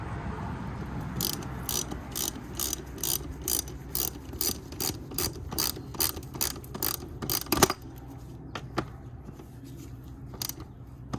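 Tightening the air filter housing on a 2008-2012 Honda Accord 2.4L four-cylinder engine: a fast, even run of ratchet clicks, up close, then a pause and a few slower single clicks.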